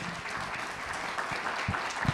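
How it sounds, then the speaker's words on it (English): Applause from a panel-summit audience thanking the panelists, a fairly faint, steady patter of many hands with a few sharper claps standing out near the end. "can I get a round of applause for our panelists"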